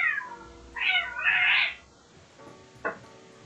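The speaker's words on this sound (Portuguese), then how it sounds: "Tive que pausar a gravação porque tem uma gata no cio" A female cat in heat meows and caterwauls outdoors, two drawn-out yowls followed by a shorter cry, moderately near and fairly loud against a quiet background with no talk.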